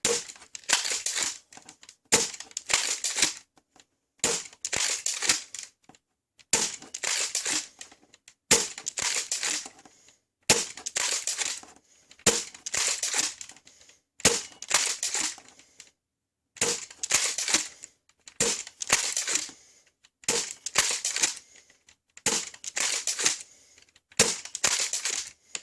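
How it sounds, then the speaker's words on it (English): Foam dart blaster emptying a full magazine of Adventure Force Pro bamboo darts, a close, sharp snap-and-thwack repeated in a steady series of about a dozen shots, each separated by brief quiet moments. "I'm gonna run a full mag of regular Adventure Force Pro bamboo dart"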